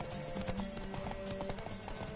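Horse hooves in the Witcher 3 game clip-clop in a steady, quick rhythm close by, with faint ambient sounds in the background.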